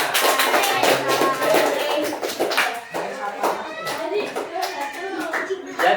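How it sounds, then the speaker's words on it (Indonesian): Children clap their hands in a classroom, a busy patter of claps running through the whole stretch, with voices chattering underneath. "Dah tepuk tangan buat kita semua"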